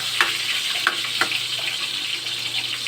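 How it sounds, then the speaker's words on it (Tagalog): Vegetables sautéing with garlic in a pan make a bright, watery sizzle, with a few sharp spits and stirring clicks over a steady hiss, loud and close. "Ginigisa ko siya sa bawang."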